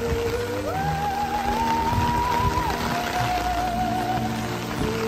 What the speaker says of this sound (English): It's a lot of rain falling on us right now.